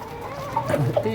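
Large Golashila hill-breed hens cluck softly and intermittently at close range, a few short calls rising over a low steady background murmur.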